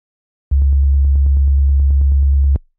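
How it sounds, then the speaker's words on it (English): A single synthesized sine wave bass note from Skrillex and Fred Again's track Rumble, very simple and dry with master effects switched off, holding steady and loud for about two seconds with a faint regular ticking pulse before stopping abruptly, alone. "it's literally just 1 note sine wave"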